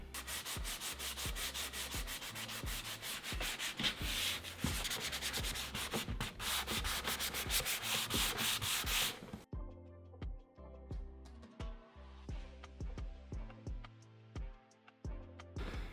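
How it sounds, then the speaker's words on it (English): Edges of a piece being lightly distressed by hand with 220 grit sandpaper during an IOD transfer project, giving steady close rubbing strokes, loud and dense at first, then softer, sparser scuffs with clear pauses between them. "I'm just taking 220 sandpaper, lightly going over it and kind of distressing the edges"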